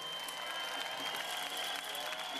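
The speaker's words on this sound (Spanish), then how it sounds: "Un fuerte aplauso para las mujeres que son lo más bello del mundo" Audience applause at the Nuestra Belleza Villa Hidalgo Jalisco 2015 beauty pageant, a steady, distant wash of clapping from a crowd, with a faint voice beneath.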